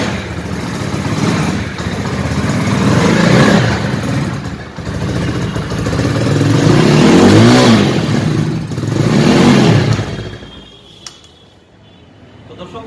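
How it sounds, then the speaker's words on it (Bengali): A red Lexmoto Hawk R9 motorcycle engine running close by, loud idling with rising and falling revs that fade toward the end. "গাড়ির সাউন্ড শুনতে পাচ্ছেন"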